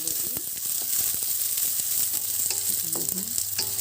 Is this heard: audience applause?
no